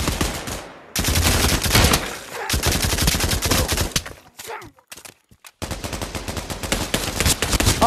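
Sustained bursts of rapid gunfire from a Trouble in Terrorist Town (TTT) video game session, loud and dense, dropping out briefly twice before resuming.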